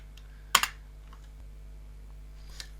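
Computer keyboard keys struck for a PowerShell command: a close, sharp double click cluster, then a few faint scattered taps and one more light press near the end, over a low steady hum, no voices.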